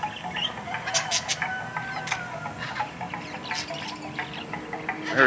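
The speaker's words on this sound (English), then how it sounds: "Oh, look at these little birds." Small birds chirp at the Shell Factory, a tourist attraction, with brief high calls scattered over steady background ambience and no talking.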